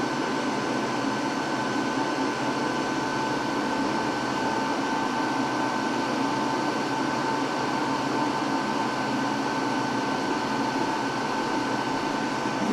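A heat gun runs continuously during a load test of a 12V 100Ah RV lithium battery, giving a steady, loud whooshing fan roar with a constant hum and no pauses.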